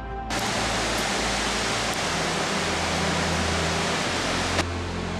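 A waterfall at Plitvice Lakes, Croatia, roars as a steady, broad rushing hiss that starts abruptly and holds at constant loudness, close and unbroken, with no voices.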